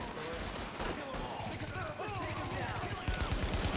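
Rapid gunfire from Tom Clancy's The Division video game, dense bursts of automatic shots layered with game effects and music, continuous and loud throughout with brief dips.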